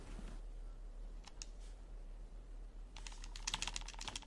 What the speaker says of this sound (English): Just need to tap the A button enough times to get inside